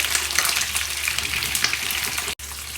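Onion and green chilli fry in hot oil for an Andhra-style chilli chicken, giving a continuous close, bright sizzle with crackling spatter that cuts out briefly near the end.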